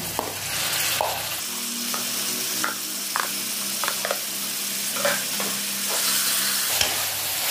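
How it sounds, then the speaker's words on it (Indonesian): Steady sizzling of pork frying with wilted onions in a pan, with a low hum underneath and intermittent scraping clicks of a utensil stirring, close by. "Kita goreng sampai setengah matang."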